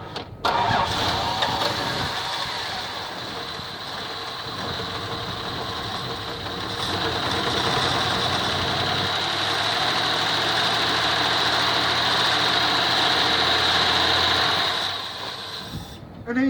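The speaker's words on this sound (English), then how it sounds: "And give it a crank." An old barn-find car engine cranks over, catches and then settles into a steady, loud idle that runs on for several seconds, with a brief voice near the start.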